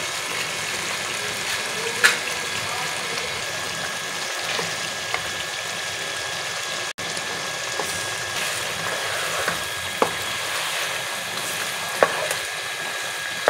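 Potatoes and tender chicken fry in a pot on a home stove for an aloo chicken pulao, giving a steady broad sizzle with a few sharp pops and spatters throughout, close and continuous, with no talking.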